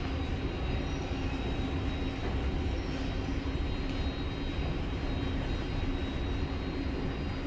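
An LA Metro subway train runs on a third-rail line, a steady loud broadband roar and rumble of wheels and motors heard from inside the car, with a faint high tone and no talking.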